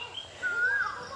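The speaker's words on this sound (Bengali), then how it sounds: "আবারও কোকিল ডাকতেছে" A single rising, whistled call of an Asian koel sounds out clearly against a quiet background, heard close and alone.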